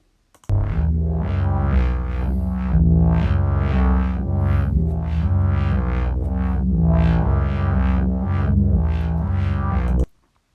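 A sequenced drone from the mscHack Dronez module in miRack plays a dense, buzzing, pulsing texture with rhythmic swells, loud and continuous for about ten seconds before cutting off, without talk.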